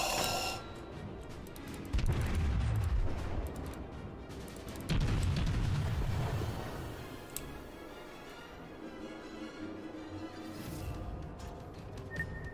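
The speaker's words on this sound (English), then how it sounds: "Bad shots. We're landing on top of the battleship instead of on the waterline." Artillery salvos from the Japanese cruiser Aoba in World of Warships, with heavy booming bursts near 2 and 5 seconds followed by lighter rumbling and ticking game sounds.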